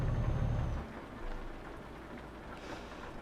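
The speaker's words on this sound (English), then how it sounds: "I'm in, what, Sweden right now, and it's raining" Steady rain falls in Sweden, a soft continuous hiss and patter that starts a little louder with a low rumble and then settles into an even, fairly faint wash.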